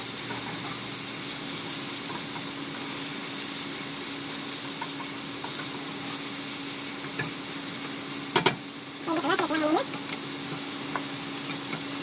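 Shepherd's pie filling sizzling in a hot pan, a steady close hiss with occasional scrapes and knocks of stirring and a short burst of louder clatter near the end.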